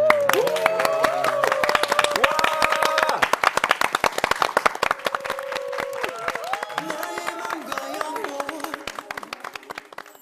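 Rhythmic audience clapping runs steadily through live music and singing at a Korean mentoring talk show, as a performer begins a worship song, with cheering and voices in the crowd.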